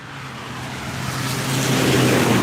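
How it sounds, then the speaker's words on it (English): A car speeds past a garden, its engine and road noise rising steadily from a low rumble to a loud, close roar over a few seconds with no talking. "That's the sound of the car speeding."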